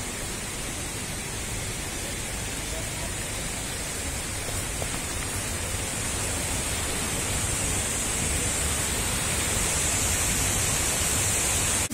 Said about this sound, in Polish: Wodospad Szklarki.